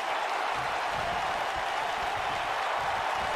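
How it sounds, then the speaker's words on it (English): Wrestling arena crowd noise at a steady, fairly loud level, a dense wash of cheering and murmur easing down slightly without pause. "Crowd coming down a little bit here."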